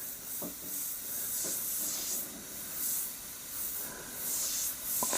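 Airbrush at 20 psi spraying thinned skin-tone paint, a steady close hiss that swells and eases in short bursts, with a few faint clicks and no talking.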